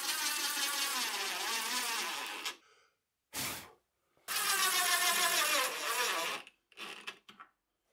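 Regular drill bit boring pocket screw holes by hand in wood, with no jig, for drawer work on a torsion box table build: two long loud bursts of drilling, each a couple of seconds, separated by a short burst and ending in brief spurts.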